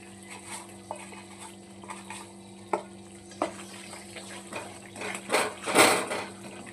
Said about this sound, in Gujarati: ગોળ ગળી જાય ત્યાં સુધી ધીમે ગેસે હલાવવાની